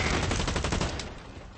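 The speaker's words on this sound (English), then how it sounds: "I like this SMG. It shoots fast." Rapid, continuous SMG fire in Blacklight Retribution, a loud unbroken burst of close shots that tapers off near the end.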